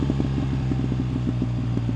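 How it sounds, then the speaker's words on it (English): A BMW GS motorcycle with an aftermarket Akrapovič exhaust idles with a deep, steady rumble, its exhaust burbling and gurgling in a rapid uneven pulse, close and loud. "Just listen to that exhaust, those gurgles, man, it just sounds absolutely awesome."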